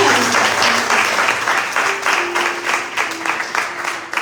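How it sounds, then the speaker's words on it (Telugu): Loud, sustained applause from a church congregation in Dubai after a Sunday school children's Christmas play, dense clapping continuing steadily throughout with a low murmur of voices underneath. "గట్టిగా చప్పట్లు కొట్టి"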